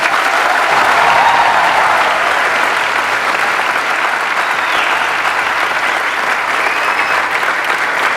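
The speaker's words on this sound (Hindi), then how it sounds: "जब मैं आता हूं स्टेज के ऊपर तो एक लेवल है तालियों का, बजा दो" A large audience at a motivational talk claps loudly and steadily onstage cue, a thick, continuous wash of applause that holds at full strength without letting up.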